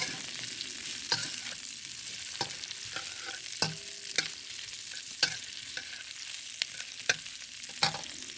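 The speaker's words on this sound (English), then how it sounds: "And the garlic. And stir fry for a few seconds." Garlic stir-fried in a wok for a shrimp and cucumber dish: a steady, moderate sizzle with sharp scraping clicks of a utensil stirring at irregular intervals, with no voices.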